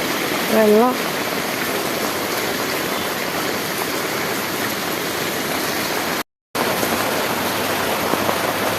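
Floodwater rushes along a flooded road as a steady, broadband wash that fills the scene from start to end, with a brief voice near the beginning and a short dropout near the end.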